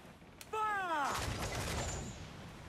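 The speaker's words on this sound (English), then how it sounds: "Don't bloody fire at me, missy." Heavy cannon fire booms from a ship during a naval battle in Assassin's Creed 4: Black Flag. A sharp, loud blast is followed by a rumbling tail, with a brief voice heard just before it.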